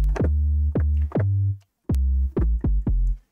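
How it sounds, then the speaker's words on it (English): An 808 bass patch called 0048T Bass Kicker from Analog Lab, in a Jersey club production, booms in deep punchy hits with falling pitch sweeps. Seven notes play in a syncopated pattern with a short gap midway, loud and alone. "really great sounding 808 inside of Analog Lab"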